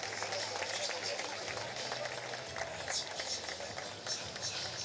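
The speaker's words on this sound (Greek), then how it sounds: "Ένα μεγάλο χειροκρότημα." Audience applause at a judo medal ceremony during the Thessaloniki Grand Slam 2023, a steady, dense wash of clapping from a crowd that carries on throughout, with a voice speaking over it.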